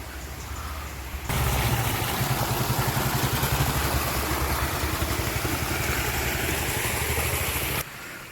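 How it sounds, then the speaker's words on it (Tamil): A farm water pump motor kicks in after a second, then runs with a steady, loud, even mechanical chug before cutting off near the end. "மோட்ரு ஓடிக்கிட்டு இருக்குது இன்றைக்கி ஃபுல்லாக ஓடும்"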